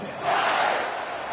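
Stadium crowd roaring in an NCAA college football video game, Rice at Texas, a broad sustained cheer swelling and holding steady for a moment without any speech over it.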